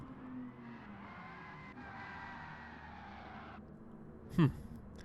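A race car in Gran Turismo Sport drones steadily through a practice race against computer cars, engine note shifting as it runs, then a short loud tire squeal near the end.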